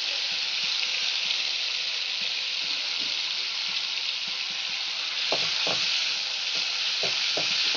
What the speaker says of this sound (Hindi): टमाटर को अच्छे से भून लिया है